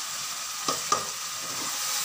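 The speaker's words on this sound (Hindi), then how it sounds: "अब हमने इसको लहसुन और अदरक को अच्छे से भूनना है।" Garlic and ginger frying in a pan for restaurant-style chicken karahi, a steady close sizzle with two brief sharp stirring clinks.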